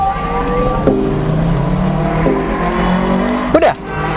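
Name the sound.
small motorcycle passing by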